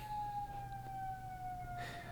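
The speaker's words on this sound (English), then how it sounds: "It really is like an air raid siren" A wailing air raid siren alarm in a space strategy video game, one steady, faintly falling tone held over a low hum, heard alone without talk.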